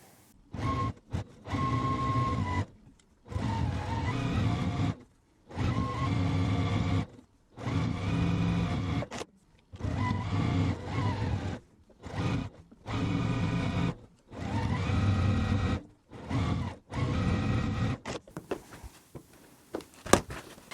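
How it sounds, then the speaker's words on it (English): Sewing machine stitching the tops and bottoms of beginner quilt block pieces, running in repeated bursts of roughly one to two seconds separated by short pauses, steady and close. "I'm going to go ahead and take these to the machine and just sew all of the tops and bottoms on"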